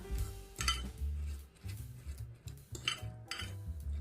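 A spoon clinks and scrapes against a bowl while hung curd is mixed with salt and black pepper, giving a few irregular, close, quiet strokes with no talking.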